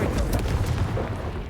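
A Confringo spell explosion in Hogwarts Legacy, a brief, dense, rumbling boom that stays loud for the whole moment.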